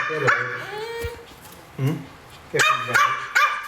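A dog barks repeatedly at close range, sharp yips in bursts with short pauses, while a person talks in between.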